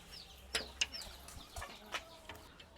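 Grown chickens in a renovated poultry shed give faint, scattered clucks and short squawks against a low background hum.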